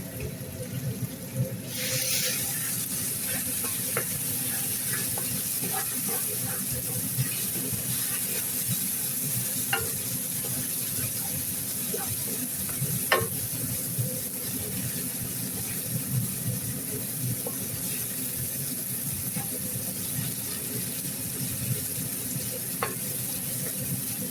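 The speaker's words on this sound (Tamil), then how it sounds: "தேவையான அளவு பிரியாணி மசாலா மல்லித்தூள் மிளகுத்தூள் மிளகாய்த்தூள் சேர்த்து நன்றாக வதக்கி எடுக்கவும்" Biryani masala with coriander, pepper and chilli powders being sautéed and stirred in a pan for chicken biryani, giving a steady low sizzle with continuous scraping and clinking of the spoon throughout.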